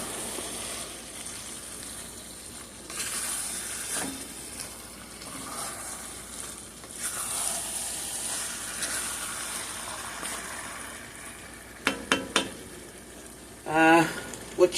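Three-bean chili with beans and juice simmers in a pot, giving a steady low bubbling sizzle throughout, with a few brief clinks and knocks near the end.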